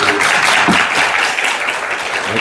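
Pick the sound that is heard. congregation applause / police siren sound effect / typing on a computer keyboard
congregation applause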